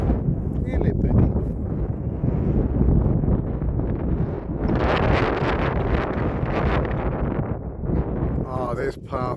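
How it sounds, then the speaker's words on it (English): Gusty wind buffets the microphone on a coastal clifftop path above Swanage, a steady broadband rush that swells louder midway, with a brief bit of talk near the start and end. "it is a bit windy up here"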